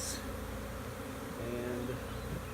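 Honeybees from a caught swarm buzz around a hive box as frames are moved during beekeeping, a close, continuous, even hum with no voices.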